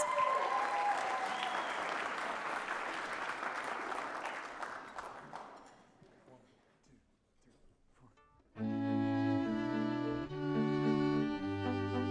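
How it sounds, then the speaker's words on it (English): Loud audience applause fills the opening seconds at a gala concert, a broad crowd clapping that fades toward near silence before a string quartet with a guest vocalist begins playing. "Give them a great applause."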